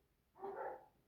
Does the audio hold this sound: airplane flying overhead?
no